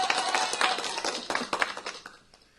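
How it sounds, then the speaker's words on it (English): An applause sound effect plays: a dense burst of clapping and cheering that swells, then thins out and fades near the end. "You should hit the applause sound effect."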